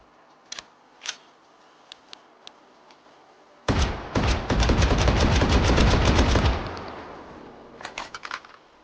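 The John Wick gun firing in the H3VR video game: a few sharp single shots, then a long loud roaring burst of rapid automatic fire lasting about three seconds, then a few more scattered shots.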